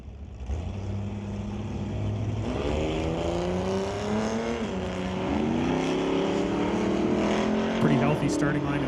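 Drag race at the strip between a 1977 Pacer and a 1983 Cutlass, with loud engines droning and rising in pitch through gear changes as the cars pull away, under continuous announcer commentary.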